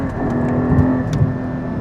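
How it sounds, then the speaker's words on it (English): A Porsche 718 Cayman GT4 engine gives a short, sharp automatic rev blip on a downshift, a close mechanical rise and fall heard alone over road and cabin noise. "So you've got your auto blip, which is phenomenal."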